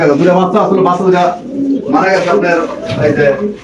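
Pigeons coo in soft, repeated low murmurs close by, with people talking over them throughout.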